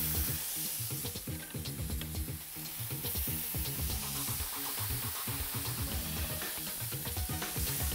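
Beef short ribs on a hot grill grate sizzle and crackle steadily for several seconds, a dense close hiss with many small pops and no voices.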